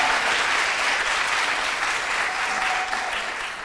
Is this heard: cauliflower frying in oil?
no